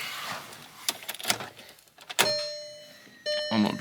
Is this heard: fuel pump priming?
yes